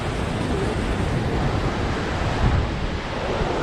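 Ocean surf at Kalk Bay beach near Cape Town rolls in as a broad, steady wash of noise, close and loud, with wind buffeting the microphone and a slight swell midway.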